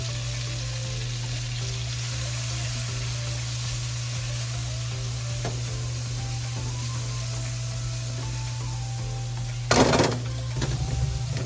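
Garlic and onion sautéing in butter, a steady, even sizzle under a low constant hum, with a short sharp burst of frying noise near the end as the pan is stirred.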